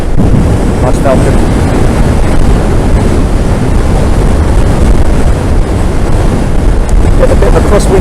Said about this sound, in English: Get a bit of a crosswind now.